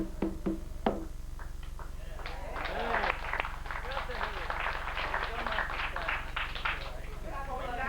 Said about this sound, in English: You have to clap yourself.